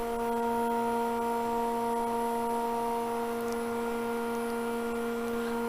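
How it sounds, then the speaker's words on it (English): A lathe runs with a steady, even motor hum that holds a constant pitch throughout, close and moderately loud, with no other sounds standing out. "Now I'm going to turn the lathe on here"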